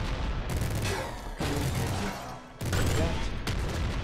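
Continuous rapid gunfire from the top-down shooter game Nuclear Throne, a loud dense barrage of shots with brief pauses between bursts.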